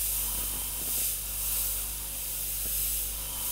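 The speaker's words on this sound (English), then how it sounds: "So that's why with cracks, I airbrush it on the opposite edge." An airbrush sprays paint onto a skull design, giving a steady, soft hiss that holds evenly throughout with slight swells, with no talking.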